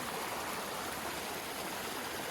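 Water flows steadily along a rice field irrigation channel, a soft continuous rushing and gurgling, faint and unbroken with no voices.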